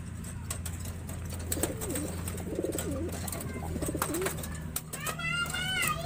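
Racing pigeons coo in a loft, several soft rolling coos repeating close by over a low steady background hum, with faint chirps near the end.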